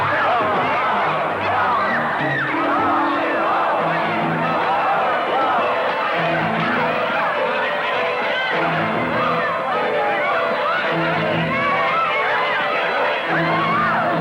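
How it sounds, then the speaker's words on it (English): Protest crowd erupting into a riot: dense roaring babble with shouts and screams, loud and continuous throughout. "Suddenly, the protest turns into a riot."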